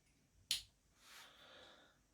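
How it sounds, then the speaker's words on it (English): A CAT5 crimping tool snaps shut on an RJ45 connector, giving one sharp, close click followed by a faint rustle of handling in a quiet room. "you crimp. You'll hear it click like that"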